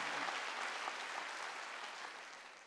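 A church congregation at a Wednesday worship service claps together, a dense, steady wash of hands that begins full and gradually fades toward the end, with no talk over it.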